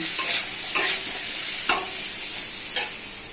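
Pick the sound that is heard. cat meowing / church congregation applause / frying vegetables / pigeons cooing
frying vegetables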